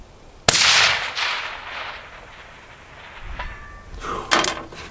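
Rifle shots fired at a steel silhouette target outdoors, a sharp loud crack followed by a long fading echo and a second softer report, then a faint distant ping of the hit.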